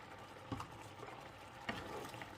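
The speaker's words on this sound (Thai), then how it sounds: "สามเพื่อนก็จะเทกะทิที่เหลือให้หมดเลยนะคะ" Coconut milk poured into a pot of Thai fish-ball curry with clown featherback fishcake, then stirred with a couple of sharp scraping knocks over a low, steady bubbling simmer.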